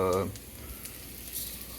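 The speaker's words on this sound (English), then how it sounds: "A little bit of a sizzle." Chicken of the woods mushrooms frying in a pan, a soft, faint sizzle crackling steadily after a short burst of voice at the start.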